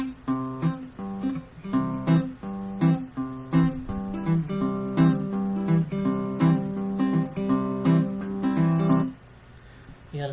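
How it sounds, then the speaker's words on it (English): Fingerpicked acoustic guitar, the thumb bouncing between muted bass strings under melody notes, a steady alternating rhythm played continuously and close, ringing out at the end. "he gets a rhythmic beat going by bouncing his thumb back and forth on the bass strings"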